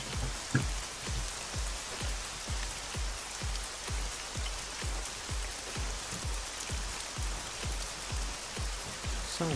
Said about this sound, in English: The sound of rain is sometimes so bloody annoying